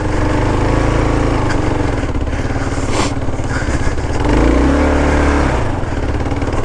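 A Kawasaki KLR 650 motorcycle churns through deep mud off road, its engine droning loud and close with rising revs and surges, no talk over it.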